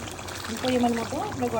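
Hot water pours into a pot of village-style chicken and potato curry, a short splashing stream heard under a speaking voice.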